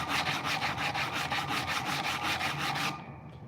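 Repeated rhythmic rubbing strokes sand a bevel around the edge of a wooden box lid, about five strokes per second, close and steady, before stopping abruptly near the end with no talk.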